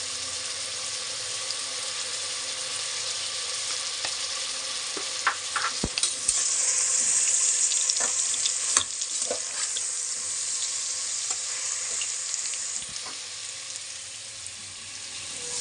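An egg frying in a pan with a constant loud, bright sizzle that runs throughout, with a few faint clicks and taps of a utensil, close and without any talking.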